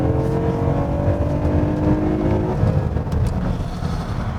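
A Kia K7 3.3 GDI engine drones and revs up steadily as it accelerates in sport mode, a loud continuous rising whine over heavy low road rumble.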